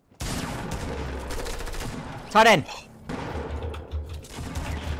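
Gunfire in Fortnite crackles in rapid bursts across most of the moment, with a sharp sweeping effect sound in the middle and brief speech over the shooting.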